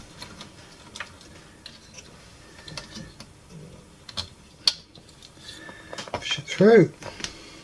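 Small plastic and metal clicks, taps and one sharp snap while a Pioneer SA-620 amplifier is reassembled and the headphone socket locking piece is refitted, scattered and close under brief talk.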